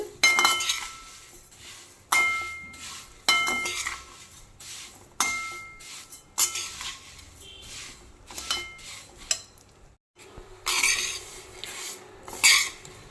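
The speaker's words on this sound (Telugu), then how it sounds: "నెయ్యి చక్క మీడియంలో పెట్టుకొని అన్నీ ఒకేలాగా ఎగేటట్టుగా చేసుకోవాలి" Vermicelli stirred and fried in ghee over a medium flame for a semiya coconut sweet: a metal spoon scrapes and clinks against the pan in repeated short bursts, close and fairly quiet, with no talking.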